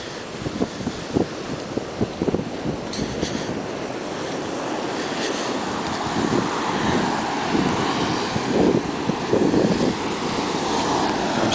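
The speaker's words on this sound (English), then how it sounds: "I hope you enjoyed this video footage of the Atlantic Ocean with a lot of wave action." Atlantic Ocean waves break against a jetty on Long Beach Island, New Jersey, amid steady, close wind buffeting. A continuous rushing surf swells and recedes with no talking.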